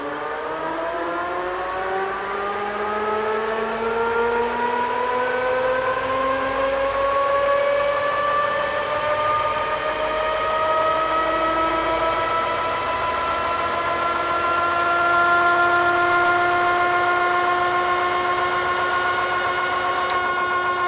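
A powerful ebike motor running at full power on a test run, giving a loud, sustained whine that climbs steadily in pitch as it speeds up, with strong layered harmonics over steady rumbling.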